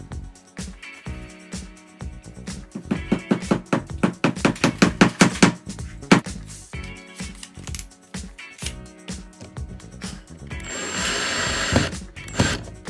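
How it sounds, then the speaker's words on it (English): A power drill fixes roller blind brackets outside a window frame in repeated short whirring bursts with rattling handling noise between them, then one longer, steadier run near the end. "So now I am attaching the brackets at the end."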